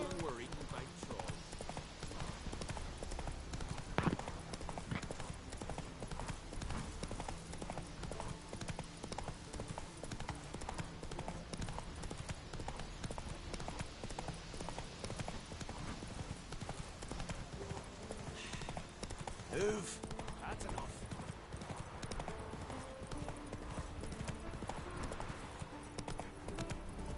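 Horse hooves galloping in The Witcher 3 video game, a steady fast clip-clop rhythm close up under game music, with occasional voices speaking over it.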